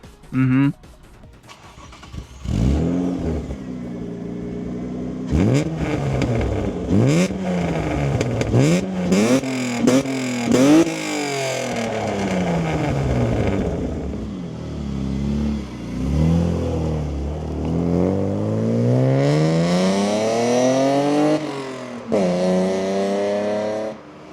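A 1994 Ford Probe with a 2.5 V6 and a modified Borla exhaust revs repeatedly, each loud, close rise and fall of engine pitch building into longer climbing sweeps, with a person speaking over parts of it.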